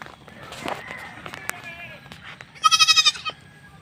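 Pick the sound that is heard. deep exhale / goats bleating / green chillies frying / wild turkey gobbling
goats bleating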